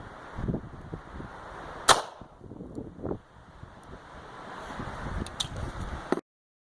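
A 9mm Beretta 92 FS pistol fired into ballistic gel outdoors: one sharp crack stands out early, followed by softer thuds and bumps over wind noise and rustling handling sounds before the sound cuts off.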